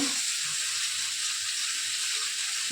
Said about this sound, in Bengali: জিরেটা ভেজে নেবো